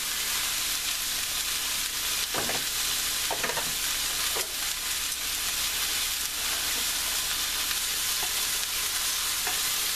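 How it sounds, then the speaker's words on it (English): Onions and shiitake mushrooms stir-frying in oil for vegan yaki soba, a constant bright sizzle with a few brief scraping stirs near the start and midway, close and fairly loud, no talking. "Now that the onions are starting to get a little translucent, I'm going to add the shiitake mushrooms."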